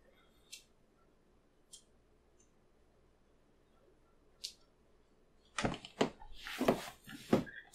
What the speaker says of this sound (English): Stupid squeaky chair.